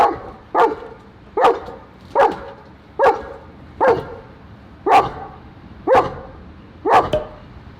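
A German Shepherd barks steadily, nine loud single woofs spaced roughly a second apart, close by and with no talk over them.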